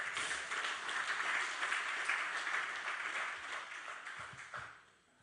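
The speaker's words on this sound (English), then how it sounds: "A round of applause." A conference audience at a biomass industry livestream gives a round of applause, a broad, steady wash of many hands clapping, moderately distant and faint, fading out at the end.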